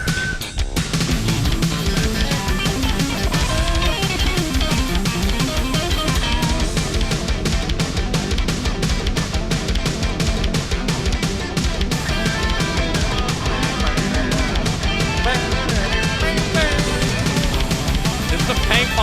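The soundtrack of Extreme Paint Brawl, a paintball video game, plays as loud, dense, continuous music with a steady driving beat throughout, without speech.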